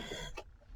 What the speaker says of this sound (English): That cough was a little rough